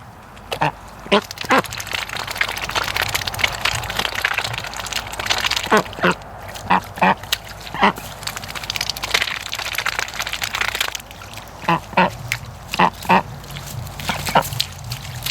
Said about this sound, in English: Look at this duck. She's all by herself back here.